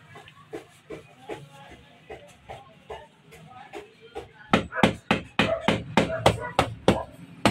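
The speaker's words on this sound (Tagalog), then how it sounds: "Ginamitan ng martilyo, binalot sa plastic na may cotton." A hammer pounds a mango wrapped in plastic with cotton, making a run of dull, close thuds that start sparse and grow quicker and louder into a steady rhythmic beating.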